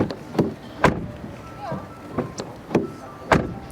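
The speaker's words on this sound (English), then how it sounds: "door sound, pretty solid in the front, but listen to it in the back." A series of solid Peugeot 2008 GT-Line car door thumps, front and rear doors shut in turn with short pauses between, heard close with a little background noise.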